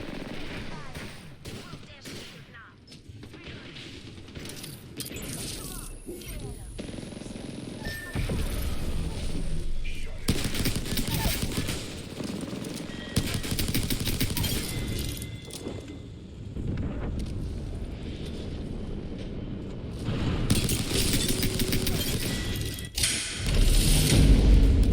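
Gunfire from Apex Legends, including pistol shots, comes in repeated bursts and single cracks over roughly twenty-five seconds, mixed with game effects and a voice talking in places.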